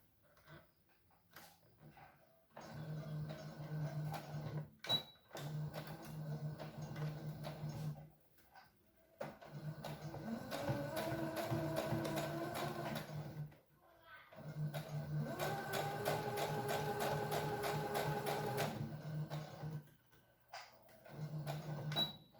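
Domestic sewing machine stitching a small fabric heart keychain closed, starting and ending with backstitches; several bursts of fast, rhythmic mechanical whirring stop and start between pauses, close and fairly quiet, with someone speaking in between.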